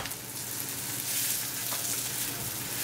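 Paratha frying in olive oil on a pan, giving a steady, moderately loud sizzle that holds evenly throughout with no talking.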